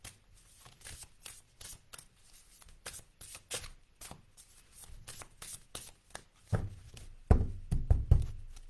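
Small cards shuffled by hand, a close series of soft riffles and taps that grows into heavier thumps and knocks near the end, with no talking.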